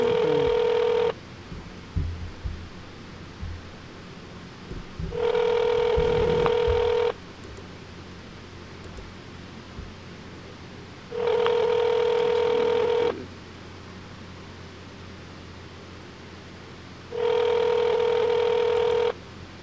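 A telephone rings on an outgoing call: loud, evenly spaced ring bursts of about two seconds each, separated by roughly four seconds of quiet, repeating four times with no one speaking.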